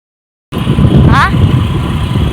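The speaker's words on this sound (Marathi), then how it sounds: "मी सुद्धा एकदम अशी हळूहार गाडी चालवत होते" A motor vehicle rolls slowly along an unpaved dirt road, its close, steady engine rumble filling the clip from the start, with a voice briefly speaking over it.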